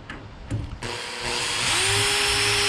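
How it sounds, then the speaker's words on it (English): A power drill bores 6mm holes into the rear tub of a Toyota FJ40. After a few light knocks it spins up loudly and holds a steady, close, high whine. "so we're just going to drill some 6mm holes"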